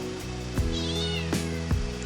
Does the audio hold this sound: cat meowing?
yes